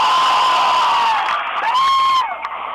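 A crowd applauds and cheers loudly, with high whoops and shouted voices riding over the clapping before it drops off sharply near the end.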